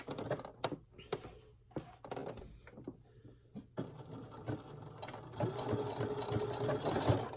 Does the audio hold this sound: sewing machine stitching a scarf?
yes